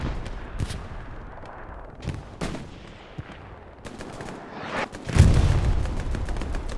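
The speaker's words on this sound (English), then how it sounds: "this is Alpha's artillery landing right in the middle of Cemetery right now" Artillery shells landing around a cemetery in the World War II game Hell Let Loose, with scattered distant gunshots and sharp cracks, then a heavy, louder impact boom rumbling near the end.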